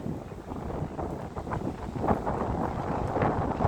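Strong outdoor wind buffets the microphone in a steady, rumbling roar that swells slightly toward the end, with no voices over it.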